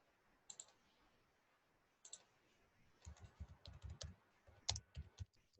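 A few isolated computer mouse clicks, then a quicker run of clicks and taps, close and fairly quiet against a soft background.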